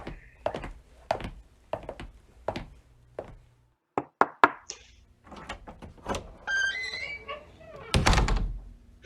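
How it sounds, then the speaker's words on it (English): Knuckles rap on a door in short clusters of two or three knocks, close and crisp against quiet, followed by a heavier thump and faint voices. "I'll knock on the door."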